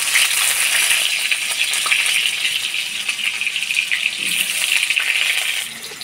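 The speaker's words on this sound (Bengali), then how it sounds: "আলুটা হলুদ লবণ দিয়ে ভাজে নিব।" Potatoes coated in turmeric and salt sizzle loudly in hot oil in a kadai, a steady close hiss and crackle that fades slightly near the end.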